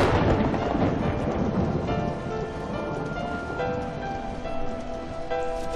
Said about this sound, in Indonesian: Tempat di mana teman-teman Bobby Bola hujan tiada berhenti kurang lebih 3 hari berturut-turut